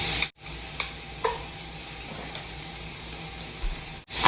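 Pork pieces sizzle in a pan for black bean soup, a steady soft frying hiss punctuated by a few stirring scrapes and clicks, with brief gaps near the start and end.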